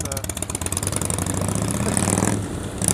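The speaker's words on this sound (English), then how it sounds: "Don't know if you can hear me over the tractor there" A tractor engine drones steadily with a low, throbbing texture, loud and close, while someone talks over it.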